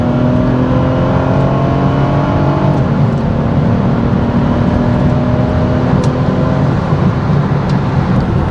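A BMW 428i with 245 hp, driven in sport mode, accelerates hard: the engine note climbs loudly and steadily, drops back twice at gear changes, and climbs again, with no talking over it.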